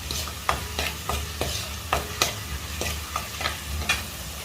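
Garlic and ginger fry in oil in a pan for green apple pickle, a steady sizzle punctuated by regular spatula scrapes roughly every half second, close and clear with no speech.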